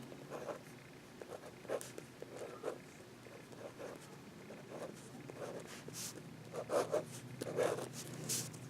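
Pen strokes scratching across paper as matrices are written out by hand, quiet irregular bursts of scribbling and short rubbing strokes spread over several seconds, close and soft with no talking.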